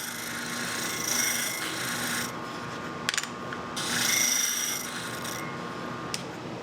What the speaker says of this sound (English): so I sanded them down until they fit.